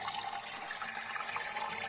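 Water from a pump pours steadily through a modified koi pond filter into a barrel, a continuous close splashing and gurgling rush with no talk.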